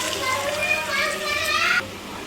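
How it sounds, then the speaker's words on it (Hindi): Water pours into a pan of chana aloo curry for just under two seconds, a steady splashing rush that stops abruptly, with children's voices in the background. "अब इसमें मैं पानी डाल दूंगी।"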